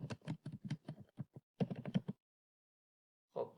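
Quick bursts of keystrokes on a computer keyboard as a school name is typed, a rapid clatter of about fifteen close clicks, a pause, then a short final press.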